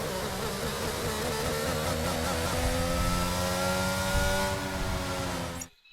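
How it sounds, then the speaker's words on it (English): Race car engine in a racing video game at the Saudi Arabia round of the XRL X2 series, a loud, close, buzzing drone that climbs steadily in pitch as it revs up and then cuts off abruptly at the end. "the car noise"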